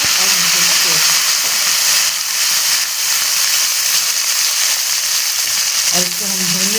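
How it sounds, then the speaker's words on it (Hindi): Garam masala with ginger and chili paste fries in a hot pan, a loud continuous sizzle with faint stirring, while a voice speaks over it at moments. "और इसको हम भून लेते हैं ताकि इसका कच्चापन दूर हो जाए।"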